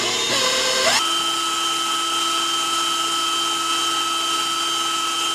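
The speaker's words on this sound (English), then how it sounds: "So now with the mixer still on, we're gonna add the cream cheese just 1 piece at a time." Electric hand mixer beating cream cheese frosting, a steady, close whirring motor tone running without pause after a brief rising rattle at the start.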